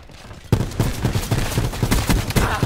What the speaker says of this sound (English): You're telling me not one of those shots hit.